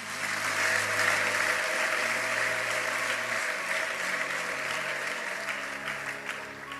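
A church congregation breaks into loud, sustained applause for Jesus during a worship gathering, dense steady clapping that stays strong throughout with a murmur of voices beneath.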